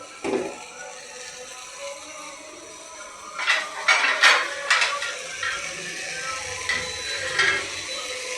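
Rice for chicken pulao is stirred and fried in a pan: a quiet opening gives way to a cluster of scraping, clattering strokes of a utensil against the pan, then sparser stirring scrapes, with no talking.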